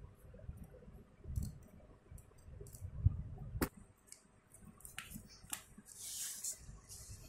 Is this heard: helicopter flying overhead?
no